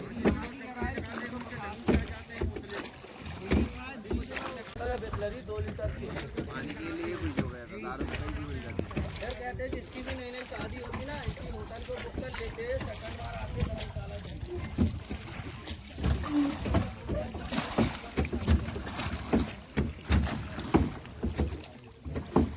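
A small rowboat is paddled fast along a river, with steady water swishing and oar strokes close by and continuous voices talking over it.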